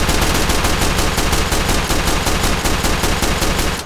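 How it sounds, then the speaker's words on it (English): Rapid, unbroken automatic gunfire from a gun in the VR shooter game H3VR with infinite ammo, loud and dense, firing continuously for about four seconds with no talk. "I can just fire this as much as I want"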